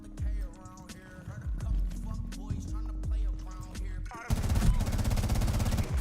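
Rapid gunfire from a gun in a video game rattles throughout, with repeated bursts early on and then a denser, louder stretch of continuous firing toward the end.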